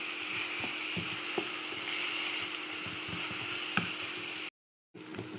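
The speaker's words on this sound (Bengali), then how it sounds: "পেঁয়াজ লাল করে ভেজে নেব।" Onions sizzling in soybean oil in a pan, a steady broadband fry hiss with faint scattered ticks and pops, close and continuous, then a brief cutoff near the end before the sizzle resumes.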